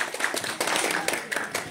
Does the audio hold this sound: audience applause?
yes